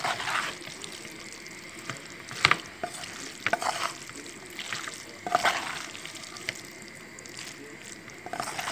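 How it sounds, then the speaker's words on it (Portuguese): Wet, sloppy stirring of pasta in sauce in a pan on the stove, with intermittent scrapes and gentle sizzling, repeated in uneven strokes. "Tem que segurar ela e mexer."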